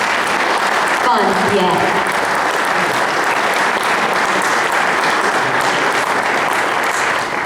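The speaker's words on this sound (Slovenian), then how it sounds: "To pa je za aplavz." Concert audience applauding a choir at a fifth-anniversary jubilee concert, dense steady clapping filling the hall throughout, with a brief spoken word near the start.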